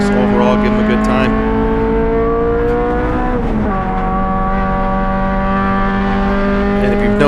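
A Subaru drives fast on a racing circuit, its engine holding a loud, steady drone from inside the car with a brief dip and rise in pitch midway as it shifts or changes speed.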